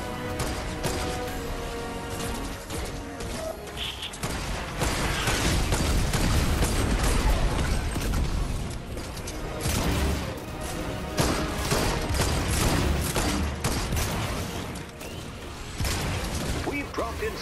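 Rapid gunfire and mechanical clatter from a firing sequence in the video game Fortnite Save the World, dense and loud throughout with crashing impacts layered over game music.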